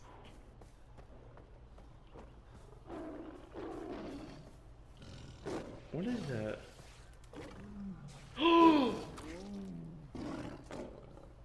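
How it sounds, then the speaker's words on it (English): Tigers clash in a video game, letting out a few roars and snarls, the loudest bursting out near the end, over low background noise with players chatting throughout. "I just saw a tiger kill another tiger."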